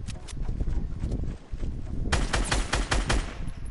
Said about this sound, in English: he tried to shoot me